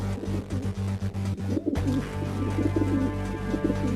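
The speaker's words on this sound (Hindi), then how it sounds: "अरे ओ चिंटू, वो कबूतर तो हमारे जाल को लेके उड़ गए" Pigeons coo in a steady low rumble, with a rapid fluttering of wings at the start that breaks off suddenly before the cooing continues.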